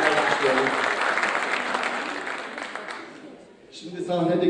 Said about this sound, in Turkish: Sevgili öğrenci Melisa'yı bir kere daha alkışlayalım.